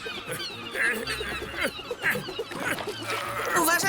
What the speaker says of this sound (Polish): to mewy. Nie znoszę tych ptaków.